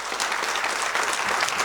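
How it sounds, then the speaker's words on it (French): Audience applause fills a church during a united Easter service, a dense, steady wash of many clapping hands that holds loud and even from start to finish with no talking over it. "Est-ce qu'on peut l'applaudir ?"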